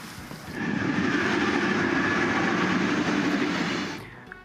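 Train at Rigasa railway station on the Kaduna to Abuja line, a steady broad rumble and rolling roar that swells in after half a second, holds loud and near, then fades out toward the end.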